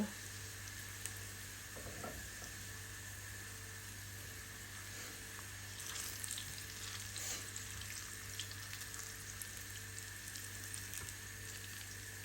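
Garlic fries in oil until brown, giving a steady, quiet sizzle and crackle with a few faint stirring scrapes, heard alone without speech.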